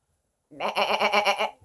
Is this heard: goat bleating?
yes